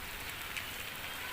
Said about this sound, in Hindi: इससे पता चलता है कि यहाँ पे बारिश बहुत ज़्यादा हो रही है